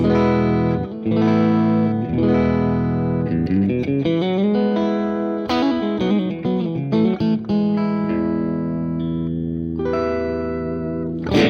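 A Stratocaster electric guitar plays chords and single notes straight into a Hampstead Artist 20 amplifier, ringing out clearly with a clean tone, sustained notes and no voices.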